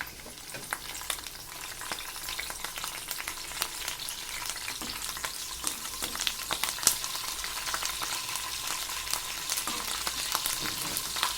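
Coarsely crushed garlic, cumin and curry leaves fry in oil in a pan for a potato fry, with a close, continuous sizzle, crackling pops and occasional stirring scrapes.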